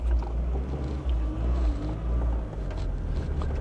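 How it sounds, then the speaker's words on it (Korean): A low, steady engine hum drones from inside a moving 1990s Volkswagen Golf, quiet and even, with no talking. "일단 엔진 소리가 굉장히 조용하고요"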